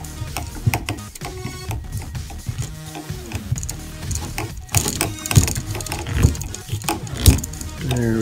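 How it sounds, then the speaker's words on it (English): Hand tool ratcheting as bottle rocket launch tubes are screwed tight onto a soda bottle rocket launch platform, giving a busy run of clicking, grinding mechanical bursts that ebb and surge over several seconds. "I have a tool here to make it tight. So just literally just screw it in."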